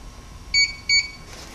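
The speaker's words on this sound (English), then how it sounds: "that double beep means that it's on" Invacare Torque SP powerchair giving two short, clear electronic beeps as it is switched on, evenly spaced and alone over a faint background hum.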